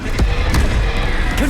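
Casting the Incendio fire spell in Hogwarts Legacy produces short, punchy bursts, two or three quick thuds of flame over a dense roaring bed, loud and close.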